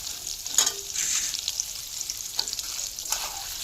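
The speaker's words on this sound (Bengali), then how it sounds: "এবার আমি দিয়ে দিলাম তেলে। এটাকে হালকা লাল করে ভাজবো।" Paneer pieces fry in hot oil with a bright, steady sizzle close by, broken by a few louder bursts of spattering as they are moved in the pan.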